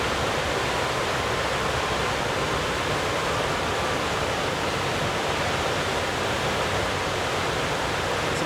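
Strong river current rushing below the Karau dam in Barito Timur, a dense, unbroken wash of roaring water that stays steady and fairly near throughout, with no voices.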